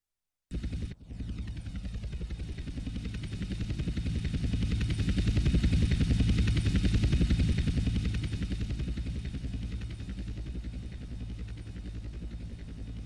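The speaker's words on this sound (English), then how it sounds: "Two agency choppers coming in on an intercept." Helicopter in the video game Grand Theft Auto San Andreas, a steady loud rotor thump and engine rumble that starts abruptly, swells toward the middle and eases slightly, with no talk over it.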